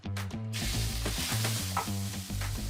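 Calamari frying in oil in a hot pan for seafood japchae, producing a loud, steady, dense sizzle close up, with a faint rhythmic mechanical hum beneath it.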